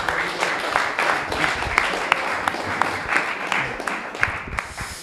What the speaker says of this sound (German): Dann einmal einen Applaus an unsere Runde.